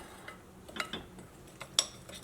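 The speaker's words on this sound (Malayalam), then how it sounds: "ഇതേപോലെ ഒരു സ്പൂൺ വെച്ചിട്ട് മിക്സ് ചെയ്യുക." A spoon stirs wheat flour and egg batter in a bowl, giving faint, sparse clinks and scrapes against the dish at irregular intervals in a quiet room.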